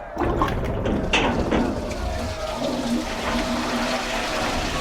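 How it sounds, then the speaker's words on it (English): A tank flushing hydrochloric acid as an audio drama sound effect, heard as a loud, steady rush of water like a toilet flush that runs for several seconds without a break. "The semi-tank is flushing hydrochloric acid out everywhere"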